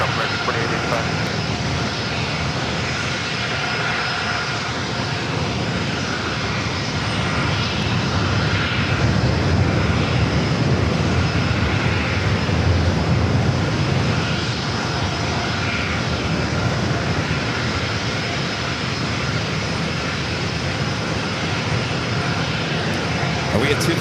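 Airliner taking off from a runway at San Diego airport, a loud, steady broadband engine roar that swells slightly mid-clip and holds throughout, with radio voices and talk over it.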